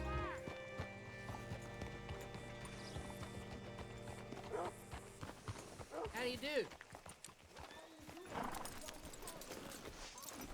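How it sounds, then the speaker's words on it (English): A horse's hooves clip-clop at a hitching post in the western video game Red Dead Redemption 2, steady hoofbeats mixed with a whinny and tack sounds beneath a game soundtrack while characters talk. "Hitch your horse up here."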